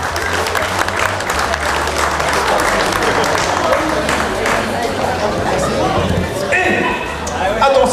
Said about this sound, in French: Allez, les applaudissements, allez.